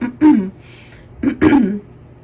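Two rough throat clearings, one after the other, close and loud, with a short quiet gap between them.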